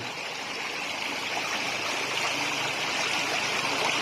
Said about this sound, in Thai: และลำห้วยนี้มีชื่อว่าคลองสลานะครับผม